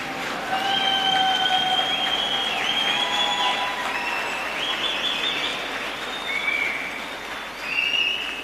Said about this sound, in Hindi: एक बार जोरदार सब लोग खड़े होके तालियां बजा दीजिए